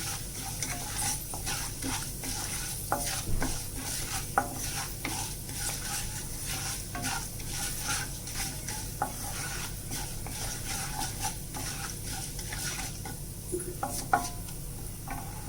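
Carrot and ivy gourd fry in a pan with mustard seeds, a steady quiet sizzle broken by repeated scrapes and clicks of a utensil stirring the vegetables, with no voices.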